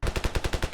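An M16A1 rifle from the Vietnam War, modded into the Ravenfield video game, fires a fast burst of about eight rapid, evenly spaced shots, loud and close, with no voices.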